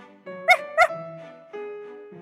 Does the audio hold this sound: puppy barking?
yes